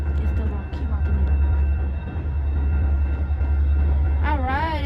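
Steady low rumble of the Rocky Mountaineer passenger train moving in Canada, loud and continuous, with a voice talking over it toward the end.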